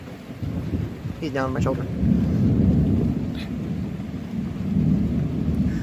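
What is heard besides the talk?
thunder rumbling during a rainstorm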